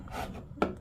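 A chisel scrapes old adhesive off a wooden floor: a soft rubbing drag followed by one sharper, louder scrape, close and with no talking.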